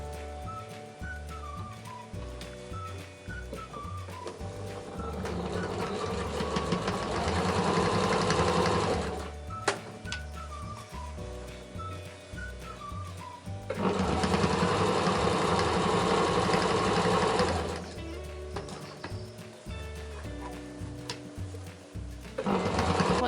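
A sewing machine top stitches along the upper edge of a fabric basket, running in two long, loud, steady bursts with a brief pause and handling noises between them.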